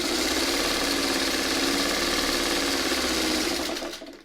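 A sewing machine stitching fabric pieces together, a loud continuous mechanical whir with rapid rhythmic needle chatter that runs steadily and then stops near the end.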